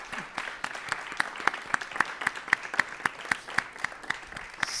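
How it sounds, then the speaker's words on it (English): An audience at a live coding collective event gives sustained applause, steady claps from a modest crowd heard at moderate distance with no one speaking. "please have an applause for Richard and Hannes for this first part."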